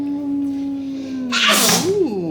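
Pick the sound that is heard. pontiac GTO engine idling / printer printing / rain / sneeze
sneeze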